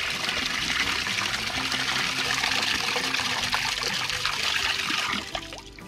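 Water trickling and gushing into a large jug, a steady, close splashing and pouring stream that keeps going before easing off abruptly near the end.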